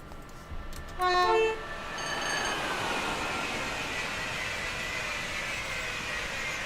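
A simulated train on the West Coast Main Line between Preston and Carlisle sounds its horn in a brief two-tone toot, then rumbles past in a broad, steady roar that holds loud for several seconds.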